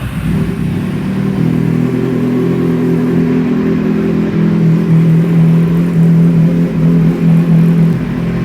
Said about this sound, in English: Now we're just going to start the bike and let it run for a couple of minutes.